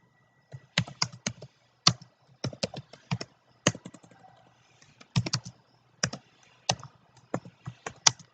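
Computer keyboard typed in bursts while code is written during a programming lecture, crisp close clicks in quick irregular clusters with short pauses between.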